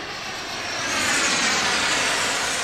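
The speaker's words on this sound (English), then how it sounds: "Gear pass on number 6, which it will be a Rebel Pro F86 right on final for landing." An F-86 Sabre scale model jet, a Rebel Pro, whooshes in on final approach at a jet model airshow, its turbine roar loud and steady and swelling slightly as it nears, with no voices.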